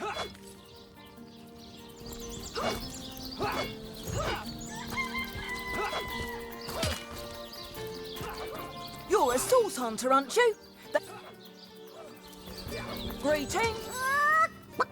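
In Divinity: Original Sin, a chicken or rooster clucks in short, busy bursts alongside other game sounds, while a character speaks over part of it.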